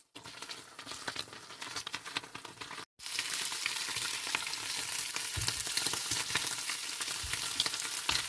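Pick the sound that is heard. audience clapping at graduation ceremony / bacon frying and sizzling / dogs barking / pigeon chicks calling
bacon frying and sizzling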